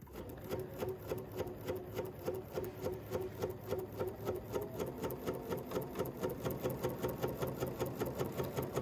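A Bernina sewing machine fitted with a straight stitch plate runs steadily, its rapid even needle strokes forming a close mechanical rhythm with a faint hum, alone and fairly near.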